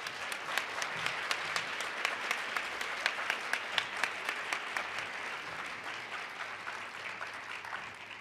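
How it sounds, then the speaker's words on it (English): Sustained audience applause after a closing keynote on reading, a fairly faint, even roll of many hands clapping with a few sharper claps standing out. "Can we have a round of applause?"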